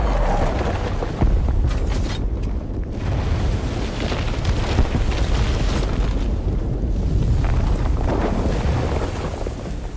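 An explosion in a Batman: Arkham Knight video game cutscene unfolds as a loud, sustained roaring rumble with sharp bursts and crackles, with no voices.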